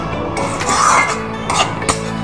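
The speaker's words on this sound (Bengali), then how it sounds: "এবার খুব ভালো করে আমি মশলাটাকে কষিয়ে নেব যতক্ষণ না পর্যন্ত মশলা দিয়ে তেল ছাড়ছে।" Spice masala sizzles in oil in a pot, stirred for goat curry. A steady frying hiss carries a few soft metallic scrapes and clinks of a spoon against the pot, all close up.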